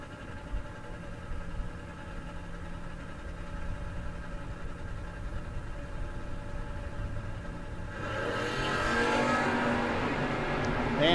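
A 1973 Buick Apollo and a Roadster at a no-box 660 drag race: a steady, distant engine drone with idling rumble, then a louder rising roar near the end as the cars launch down the strip.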